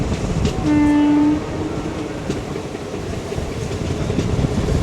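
A train rolling into Neyyattinkara station sounds a single loud horn blast near the start, followed by the rhythmic clatter and rumble of carriages running close by.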